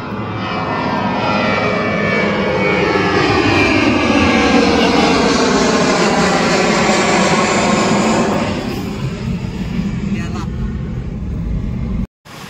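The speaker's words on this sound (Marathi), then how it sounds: "शिर्डीमध्ये विमान उडलेला आहे आम्हाला घेऊन" Loud, droning airplane engine roars steadily, heard from inside the aircraft during flight from Shirdi, then eases in pitch and volume toward the end.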